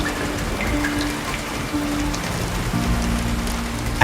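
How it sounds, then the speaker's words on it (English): Steady rain falls on a mangrove forest, a dense continuous patter of drops with no other sounds, ending in a brief louder burst at the close. "When it rains, the forest falls silent. Everything fades, except for the sound of falling drops."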